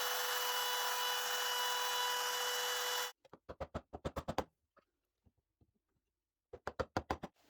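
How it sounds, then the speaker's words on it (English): A handheld router trims grooves in wood, whining loudly and steadily, then cuts off abruptly; afterward come bursts of short, sharp knocks and scraping strokes in quick clusters. "I will go ahead and trim to the lines with a handheld router"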